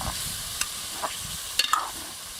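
Chicken karahi in a restaurant-style Shinwari preparation stirred in a hot pan, a steady loud sizzle broken by several scraping clinks of the spoon against the metal.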